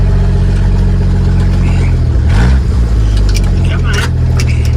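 International Harvester L-130 truck engine running loud and steady with low rumble, a brief surge midway as gears are shifted; someone talks over the engine throughout.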